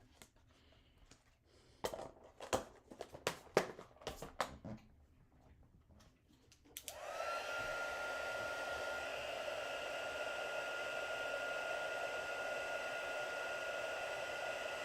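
A heat embossing tool whirs on steadily for about eight seconds, melting embossing powder on a handmade shaker card, after a stretch of light clicks and handling taps.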